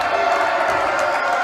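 Basketball crowd in the stands of a Salem Capitals versus Wenatchee Bighorns game, booing and murmuring in a sustained, fairly loud wash of voices after a flagrant foul call.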